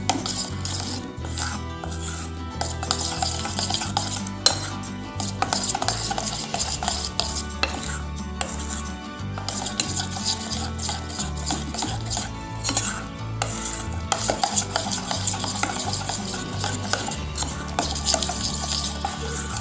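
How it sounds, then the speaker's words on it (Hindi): Hand-whisking a thick batter of besan (gram flour) and curd for kadhi pakoda in a bowl, with steady scraping and clinking of utensil against the bowl in a busy, continuous rhythm without talk. "चाहें तो आप इसे हाथ से भी ऐसे करके फेंट सकते हैं"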